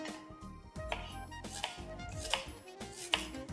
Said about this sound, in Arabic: نجيب السكينة، هنقطع البصل أجنحة